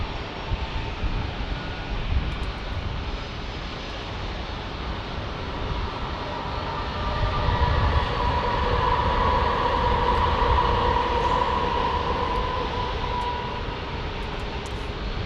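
A JetBlue airliner passing at San Diego airport, a steady broad jet roar that rises and holds loud through the middle before easing slightly, heard from a moderate distance with no talk.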